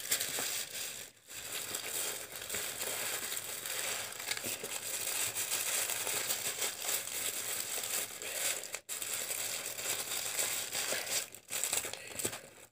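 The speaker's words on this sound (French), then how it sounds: "je vais lui mettre les petites bougies avec le papier de soie." Tissue paper crinkling and crumpling continuously while small candles are wrapped, a close, dense rustle with brief pauses near the start and end.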